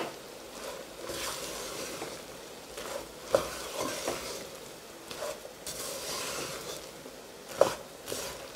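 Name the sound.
groundnuts being cooked and stirred in a non-stick pan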